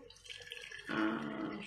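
A homemade herbal drink, made as a natural antibiotic, is strained: a soft trickle of liquid splashes and drips, then swells into a steadier pour that lasts about a second.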